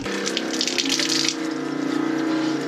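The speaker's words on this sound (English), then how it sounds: "Running water! You made water!" Water gushes from a faucet fed by a newly fixed water pump aboard a sailboat, a loud, close, steady stream with a hissing splash that eases slightly partway through.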